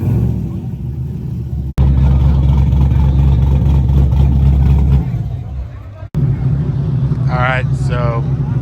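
A car engine revs hard during a rev battle at a car gathering, a loud sustained roar with two sharp cutoffs, then picking up again, while people talk nearby.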